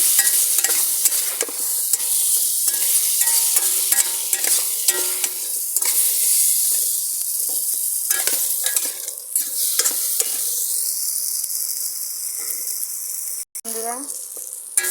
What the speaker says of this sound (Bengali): গরম মশলা গুঁড়ো একটু দিয়ে দেব দিয়ে ভালো করে কষে নেব